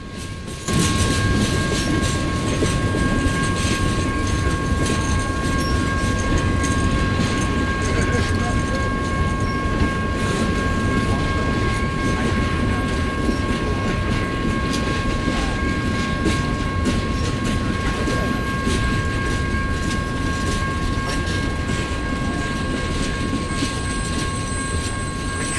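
A Triple Crown freight train rolls past steadily and continuously, a loud rumbling roar with rail noise and a sustained high tone running throughout.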